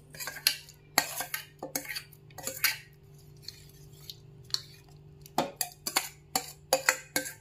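A metal spoon clinks and scrapes against a pot while tempering is stirred into bottle gourd dal, in repeated sharp taps and scrapes with short pauses and a low steady hum underneath.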